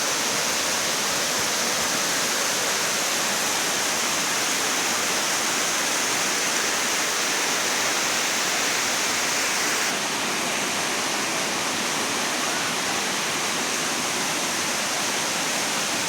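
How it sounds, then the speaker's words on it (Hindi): A mountain waterfall pours over rocks in a steady, loud, unbroken roar of rushing water that fills the whole stretch, with no voices. "इस जो झरने का रियल साउंड होता है इसको आप लोग सुनिए"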